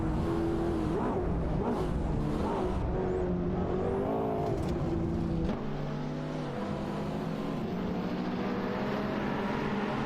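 A Mercedes-Benz SL65 AMG and a Ferrari Portofino accelerating in a racing video game, with engines revving hard and shifting pitch, loud and continuous throughout, with a gear change midway.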